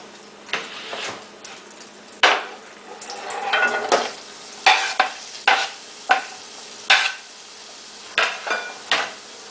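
Onions sauteing in butter and olive oil in a pan for a white clam sauce, with steady sizzling broken by repeated sharp scrapes and stirring clatters of a utensil against the pan, close and fairly loud, no talking.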